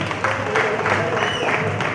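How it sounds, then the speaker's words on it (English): An audience at a new yam festival gathering of an Igbo community in Gävle, Sweden claps in a short, steady burst of moderate applause, with some voices mixed in. "Can we clap for him, please?"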